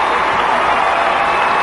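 A gymnastics arena crowd at the 1991 World Gymnastics Championships applauding a Soviet gymnast's dismount, a dense, steady roar of clapping heard from a distance, with a commentator's voice over it.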